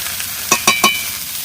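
Cauliflower pieces stirred in a hot pan of oil for a village-style chicken curry: a steady sizzle with three quick scraping stirs close by, and no talking.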